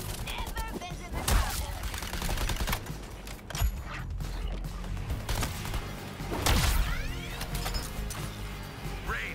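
Sharp game gunfire and impact crashes from Suicide Squad: Kill the Justice League, irregular bursts and thuds over a busy action mix with faint voices underneath.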